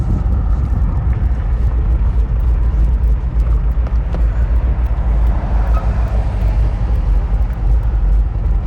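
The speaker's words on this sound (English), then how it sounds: "A lot more traffic today than there normally is." Steady road traffic in Quartzsite, a broad low rumble of passing cars rolling continuously from moderately near, with no talk.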